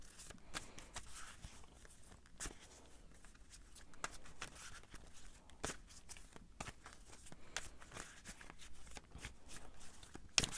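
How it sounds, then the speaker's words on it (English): Tarot cards shuffled by hand, soft riffling and slapping bursts in an irregular rhythm, close and fairly quiet with no talk. "I'm going to shuffle and see what the cards have to say."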